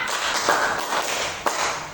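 In a classroom clapping game, two crisp hand claps ring out about a second apart over faint room noise.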